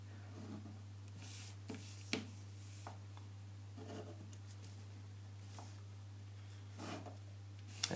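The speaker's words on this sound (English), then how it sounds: "I'll just do that sketch." A pen sketches a triangle on paper: soft, faint scratchy strokes in short separate bursts over a steady low electrical hum, with no talking.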